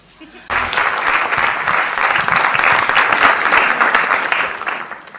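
Steady, dense applause from a large audience at a Gujarati motivational talk, rising abruptly and holding full for several seconds before tapering slightly, with a few voices faintly mixed in.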